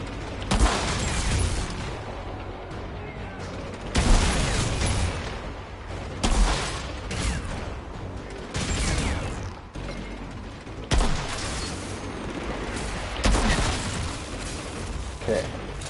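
Heavy sniper rifle shots from the video game Outriders land as loud single booming cracks every couple of seconds, each with a short decaying tail, while someone talks between shots.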